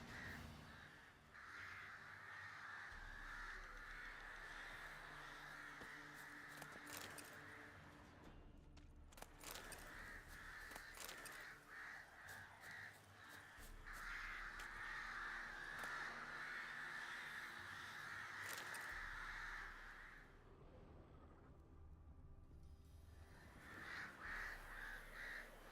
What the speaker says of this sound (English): There's a lot of crows I'm hearing.